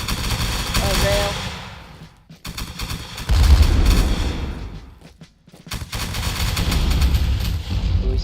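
Artillery fire and gunfire rumble through a strategy video game battle, with heavy booms and bursts of shooting rising and falling across the clip, broken by brief drops, under a commentator's voice.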